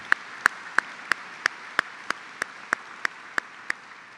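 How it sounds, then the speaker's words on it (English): Clapping at a 2024 Gaudeamus evening event: a steady, evenly spaced run of about a dozen sharp, single claps, moderately close and fairly quiet over a low background hum. "let's give another round of applause to Jaime for his beautiful remarks here tonight."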